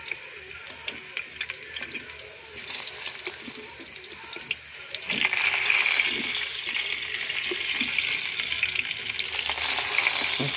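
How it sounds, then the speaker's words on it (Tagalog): Potatoes dropped into a hot pan start frying, and the sizzle swells from a moderate hiss into a loud, steady crackle that carries on without any talking. "lalagay na natin ang ating patatas sa kawali na mainit"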